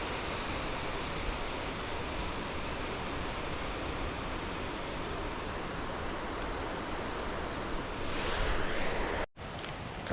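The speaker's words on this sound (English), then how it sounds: "That waterfall coming down there" Steady broadband rush of a waterfall seen from a steep Rysy mountain trail between Poland and Slovakia, a constant full roar with wind mixed in that swells slightly near the end before a brief dropout.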